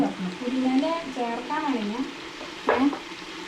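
A spoon stirs biryani rice in a cooking pot at home, soft scraping and sizzling beneath a person talking close by.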